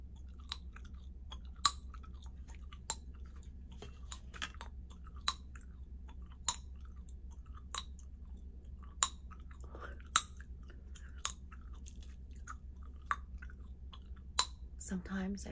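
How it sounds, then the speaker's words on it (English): Starbucks sugar-free gum being chewed up close, with soft wet mastication broken by sharp, evenly spaced cracking snaps roughly every second. "Today I just want to crack gum."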